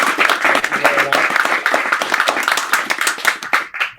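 Audience applause at a hybrid poetry reading, a steady burst of many hands clapping, fairly loud and close, with a brief murmur of voices underneath, thinning slightly toward the end.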